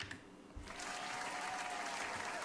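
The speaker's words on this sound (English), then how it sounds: "everyone give her a round of applause" Applause for a guest on a gaming talk show: a short spell of clapping that swells in after a brief quiet start and holds at a moderate, somewhat distant level.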